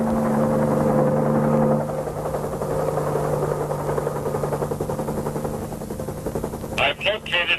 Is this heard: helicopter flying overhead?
yes